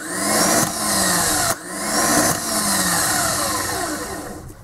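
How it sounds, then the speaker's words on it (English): A Mitsubishi Pajero/L200 2.5 TD starter motor spins freely on the bench, making a loud, close, high-pitched whir that surges in short bursts with brief breaks between them. "We can hear that the starter is working away"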